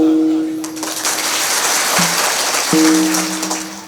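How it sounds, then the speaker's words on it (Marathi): An audience at an outdoor Marathi speech event breaks into loud, sustained clapping, a dense crackling roar that fills the clip while a voice and a droning tone sound briefly over it. "त्याने एकदा जोरदार टाळी वाजवा"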